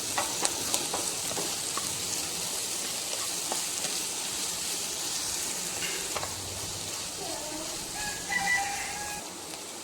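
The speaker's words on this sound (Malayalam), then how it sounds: "2 ടൊമാറ്റോ അരിഞ്ഞതാണ് ഞാൻ ഇതിലേക്ക് ചേർക്കുന്നത്. ഇതെല്ലാം കൂടി ഒന്നുകൂടി ഒന്ന് വഴറ്റാം." Chopped tomatoes sautéing in a pan for a Kerala taro leaf curry give a steady, moderate sizzle with occasional stirring scrapes, while a rooster crows faintly in the background.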